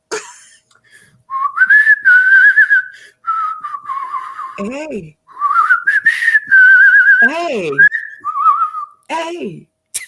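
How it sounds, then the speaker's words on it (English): A person whistles a warbling tune in several phrases, some with sliding, swooping pitch drops, loud and close in a quiet room, with a brief spoken interjection in between. "I can whistle."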